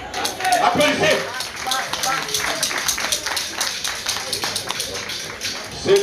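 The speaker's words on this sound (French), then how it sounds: "Applaudissez." A crowd claps and applauds at a gathering, producing a rapid, irregular patter of hand claps that runs steadily for several seconds at moderate loudness, with voices mixed in.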